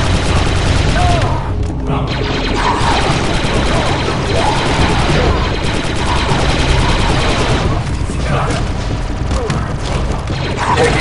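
Blaster and gunfire in the Star Wars Republic Commando video game, loud sustained volleys with booms and crashes in a continuous combat din, with voices shouting in places.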